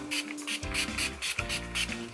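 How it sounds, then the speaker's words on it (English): A few quick mist bursts from an Urban Decay Quick Fix setting spray being spritzed over a face, soft hissy puffs repeating close by with no talking. "So what I'm going to start with is my Urban Decay Quick Fix, and I just spray that all over my face."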